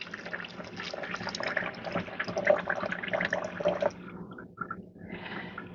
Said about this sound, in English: start adding the water that I'm going to pre-soak all of these